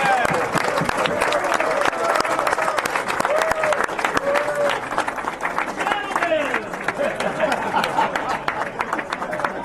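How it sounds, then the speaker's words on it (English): Audience applause greets pool player Earl Strickland at a 9-ball challenge match, scattered hand claps mixed with cheers and crowd chatter, moderately close and lively. "Ladies and gentlemen, a tremendous round of applause for the Pearl, Earl Strickland"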